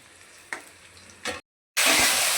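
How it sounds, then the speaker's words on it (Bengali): Frying food in a pan at home, with a spoon scraping and stirring, a brief pause, then a loud burst of sizzling close up. "এই যে এখন চিংড়ি মাছ ভাজা হবে"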